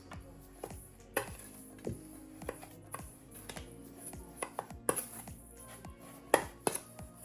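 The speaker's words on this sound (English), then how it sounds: "I'm going to add some butter. And I'm going to leave this much for the Kunafa dough. So I'm going to give that a really good mix." Crushed biscuits and butter are mixed for a pistachio kunafa cheesecake base, with irregular close scraping and clinking taps of a utensil against a bowl, fairly quiet, no speech.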